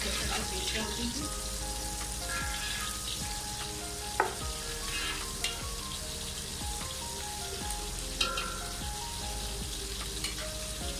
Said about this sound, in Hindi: थोड़ा सा ये ब्राउन होगा प्याज, इसमें मैं अदरक लहसुन का पेस्ट डाल दूँगी